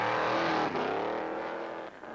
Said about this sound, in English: That was also true of the car John was driving, the pre-war works Mercedes W125.